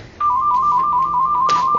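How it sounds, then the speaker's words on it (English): A mobile phone ringtone goes off indoors during a paper-folding craft session, with a steady electronic tone that starts abruptly and sounds continuously and loudly, joined by a brief brighter burst near the end. "my phone rang"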